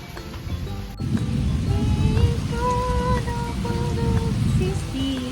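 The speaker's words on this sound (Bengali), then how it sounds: "বৃষ্টি দেখছি, বৃষ্টি, ঝিমঝিম বৃষ্টি, রিমঝিম বৃষ্টি" Light drizzle falls steadily and close by, a soft continuous patter that stays even throughout, with a brief bright tone fading out near the start and faint scattered higher tones over the rain.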